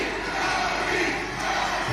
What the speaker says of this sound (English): they start cheering for Cody Rhodes